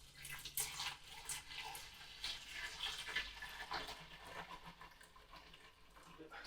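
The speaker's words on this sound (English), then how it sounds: "I'm going to fill her up to the fill line with some water" Water pours steadily into a Pinter brewing keg while the brew juice is topped up to the fill line for a Dark Matter Stout, a continuous soft splashing rush with faint voices in the background.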